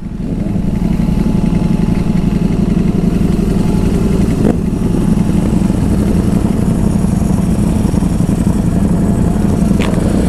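A superbike's engine runs steadily during a nighttime group ride in New York City, a loud, continuous drone that holds without pause for the whole stretch.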